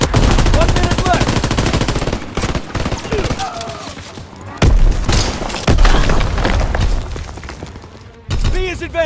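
Intense Call of Duty: World War II multiplayer battle gunfire, with dense overlapping rifle and machine-gun bursts, booms and thuds, loud and continuous, with shouted voices and brief lulls between volleys.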